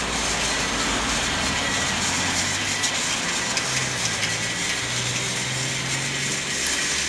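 Motorized Trackmaster toy trains run side by side on plastic track, a steady whirring motor drone with faint rattling wheels continuing throughout, close and fairly loud with no talking.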